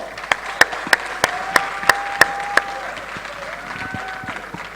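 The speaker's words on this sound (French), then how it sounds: "Sous vos applaudissements" A crowd at a slam and spoken-word show on the stage of the Institut français du Congo claps together in an even, quick rhythm. The beat fades after a few seconds, and a voice comes in over the lingering murmur.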